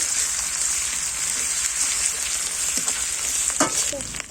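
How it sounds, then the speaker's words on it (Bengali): Ginger and garlic paste frying in a pan gives a steady, close sizzle, with a few stirring scrapes and spatters near the end and no voices. "এখানে আমি এক চামচ আদা বাটা দিলাম, রসুন বাটা দিলাম, ভেজে নেব।"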